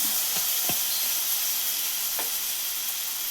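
Milk is poured into a hot pan of black tea, and a steady hiss of steam and sizzling fills the clip. A few faint clinks sound at irregular intervals.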